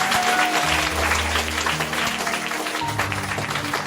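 A church congregation applauding and praising Jesus during a worship service, a dense, steady roar of clapping mixed with cheering voices that holds at full strength throughout.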